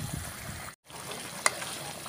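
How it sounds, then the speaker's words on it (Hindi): Ginger chicken pieces, spiced with ground coriander, red chilli and salt, sizzle as they are sautéed in a pan. A quiet, continuous crackle is broken by a brief gap and a single sharp clink of the stirring spoon. "आप देख सकते हैं कि हमने इसको भुनना शुरू कर दिया है"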